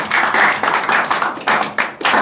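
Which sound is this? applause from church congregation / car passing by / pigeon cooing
applause from church congregation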